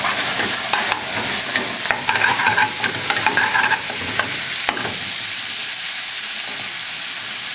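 Onion fries in oil with cumin seeds for tarka dhal, producing a loud, close, hissing sizzle with rapid stirring scrapes for the first few seconds, then a steadier sizzle alone.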